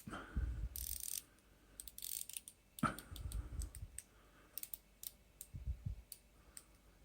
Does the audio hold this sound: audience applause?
no